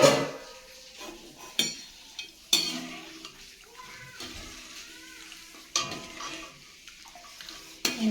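A utensil stirs amla murabba with jaggery and water in a pot, giving repeated scraping knocks and clatters against the metal over a soft bubbling simmer.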